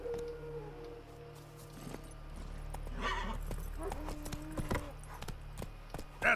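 Hooves of the horse Roach in The Witcher 3 clip-clopping in a loose, uneven rhythm at close range, with a neigh-like cry in the middle and a faint game ambience beneath.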